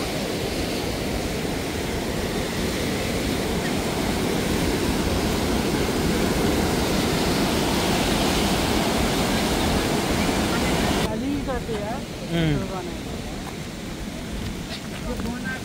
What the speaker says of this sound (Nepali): दामी छ यार वाटरफल, सही छ नि त